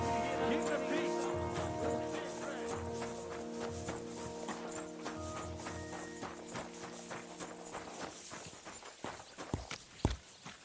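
A horse walks with steady clip-clop hoofbeats in Kingdom Come: Deliverance II, close and distinct, under a sustained musical tone that fades, with a few louder thuds near the end.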